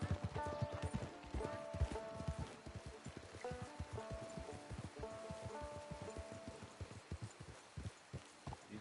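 Horse hooves clip-clop steadily on the ground in Red Dead Redemption, a fast, even rhythm of dense hoofbeats with a faint background ambience throughout.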